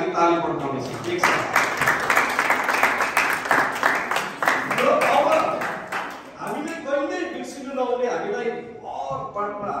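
A congregation claps and applauds in a church during an inauguration service, sustained rhythmic applause that swells and then fades as a voice talks over the end.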